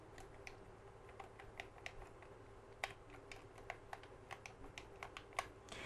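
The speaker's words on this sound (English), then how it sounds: "D-pad's quite easy to press. It doesn't make that much noise. You can hear a click, but it's not too loud." Soft clicks from the D-pad of an ASCII Stick L5 one-handed Famicom RPG controller, a quiet irregular run of light plastic taps close to the mic, with no voice.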